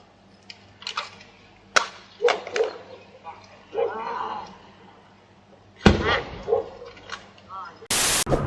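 A dog barks a few times, sharp single yaps mixed with voices and road noise inside a moving car, ending in a loud harsh burst.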